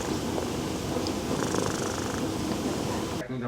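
A young male cat purring close up, a steady continuous rumble that fills the moment and then stops abruptly near the end.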